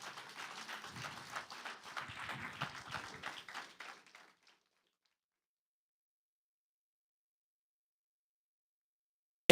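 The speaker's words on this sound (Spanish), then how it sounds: "Un fuerte aplauso a Jesucristo, el Hijo de Dios." A church congregation applauds during a sermon, a dense burst of clapping from many hands lasting about four seconds before cutting off abruptly into silence.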